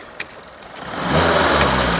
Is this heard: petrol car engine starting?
yes